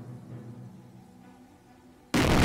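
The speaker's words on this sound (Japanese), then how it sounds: "では、爆破します" A demolition explosion in Company of Heroes during a Normandy mission, one abrupt loud burst that erupts suddenly after a quiet stretch of low battlefield rumble and keeps roaring to the end.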